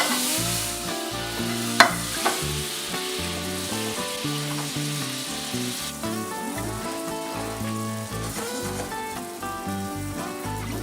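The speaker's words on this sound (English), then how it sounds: "We're going to put some butter in the pan here." Butter sizzles steadily in a pan for toasting rye slider rolls, a constant hiss kept close and loud under background music.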